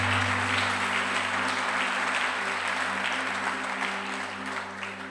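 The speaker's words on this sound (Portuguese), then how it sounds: "pode aplaudir Jesus?" A church congregation applauding during a sermon, a dense, continuous wash of many hands clapping together that holds steady and tapers slightly at the end, with a low hum underneath.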